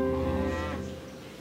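Cows mooing in the strategy video game Civilization V, a single deep, drawn-out moo that fades away over about a second and a half, clear and alone without talk.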